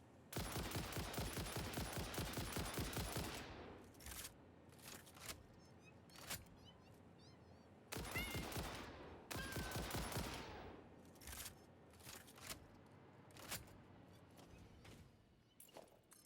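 Rapid bursts of automatic gunfire from a shooter video game, loud volleys in two long stretches with scattered single shots and quieter gaps between, no talking.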